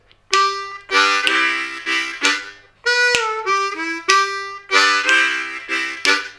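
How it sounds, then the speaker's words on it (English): A blues harmonica plays a lick over a chugging chordal vamp, with rhythmic, rich chord bursts and bent single notes repeating steadily, loud and close, with no voices. "Okay, and then with the vamp, it'll sound like this."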